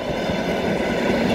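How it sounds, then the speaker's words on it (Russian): EP2DM electric commuter train on the Trans-Siberian main line, passing close by with a steady, loud rumble of wheels and carriages and a faint clickety-clack throughout. "ЭП-2ДМ. Это электричка."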